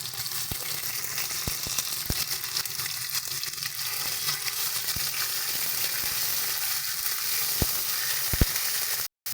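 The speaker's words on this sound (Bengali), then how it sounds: "মশলা আমাদের ভাজা হয়ে গেছে" Tempering of bay leaf, cumin, dried red chilli, ginger paste and green chilli paste sizzling in hot oil, a loud continuous close fry with sharp intermittent pops and no talk.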